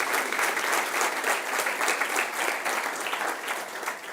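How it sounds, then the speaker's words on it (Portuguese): Members of a church congregation applaud together, a moderate, continuous patter of many hands clapping heard at some distance without talk over it. "aplauda forte o nome dele."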